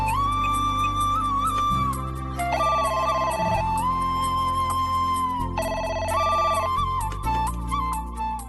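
A telephone rings in a kitchen with bursts of electronic ringtone repeating in a steady pattern, sounding loud and close over a musical backdrop, with no voices.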